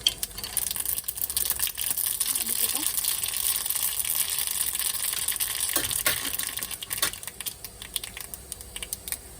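Mustard seeds crackle and pop in hot coconut oil, a busy, steady sizzling with scattered sharp spits throughout.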